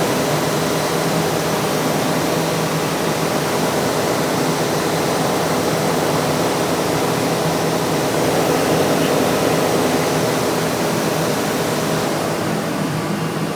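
Apex abrasive finishing machine running steadily with its fourth head, a medium Scotch-Brite polishing head, after 60-grit abrasive heads; a loud, continuous broadband whirring roar holds level throughout with no voices.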